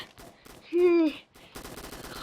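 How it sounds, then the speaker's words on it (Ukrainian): Video game gunfire comes in rapid, loud automatic bursts, split by a brief high vocal cry and short gaps, with the firing picking up again steadily near the end. "Мене стріляють!"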